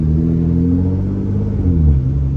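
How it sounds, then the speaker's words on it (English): A Nissan GT-R R35 with a catless titanium exhaust rumbles loudly and close, its low engine note rising and falling slightly as it revs, with no talk over it. "I do have a catless exhaust, titanium exhaust"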